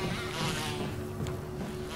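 Insects buzz around a bee nest in the Resident Evil remaster on PS4, a steady droning hum that stays constant for the whole two seconds with no talk over it.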